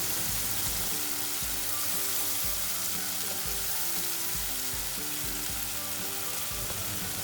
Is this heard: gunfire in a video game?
no